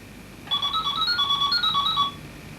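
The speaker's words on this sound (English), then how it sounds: "I'm going to phone Scatchy" A telephone rings with a bright electronic warbling tone, one continuous burst of about a second and a half, clear and alone with no voices over it.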